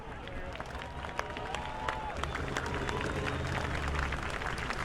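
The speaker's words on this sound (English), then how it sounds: "If everybody would stand up, please, and give a round of applause for Mr. Ben Dodge" A standing audience at an award presentation in New Smyrna applauds an honoree, a continuous bed of clapping with scattered sharper claps and low crowd murmur beneath a few background voices.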